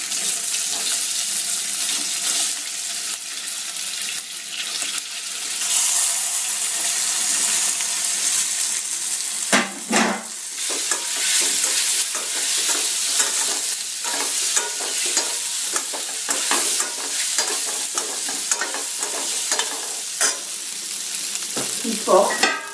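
Kozhukattai rice dumplings frying in a pan with spices and asafoetida, a steady crackling sizzle with stirring scrapes and brief clatters, close and continuous.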